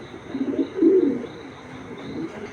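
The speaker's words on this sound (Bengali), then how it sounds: "দেখেন কবুতরগুলা একদম অ্যাক্টিভ মাসাল্লাহ" Racing pigeons cooing in a loft, a run of throaty, rolling coos that swell to a louder burst near the middle then fade into quieter murmuring, with no talk.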